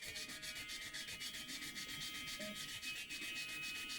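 Steady rhythmic rubbing of fine 800-grit sandpaper across a Squier Telecaster guitar body, a quiet, even back-and-forth scrape repeating about four times a second with no voices.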